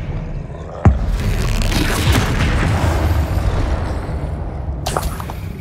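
Confringo blasting spell explosion in Hogwarts Legacy, a sharp blast followed by a sustained rumbling roar under combat noise, with a second burst near the end.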